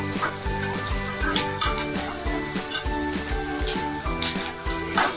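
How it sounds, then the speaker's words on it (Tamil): Onions for a bottle gourd chutney sauté in a pan with a dense, even sizzle and a soft stirring rustle, a steady tonal hum or music running underneath throughout. "வெங்காயம் நல்லா வதங்கிடுச்சு நாலு காஞ்ச மிளகாய் போட்டு அதையும் நல்லா வதக்கிக்கலாம்"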